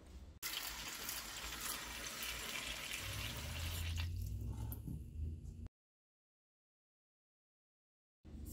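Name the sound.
water filling a bowl of fresh raspberries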